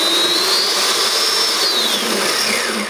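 Modified 24 volt Power Wheels Jeep with upgraded motors whirring alone at close range, a steady high electric whine that rises in pitch and then falls back down.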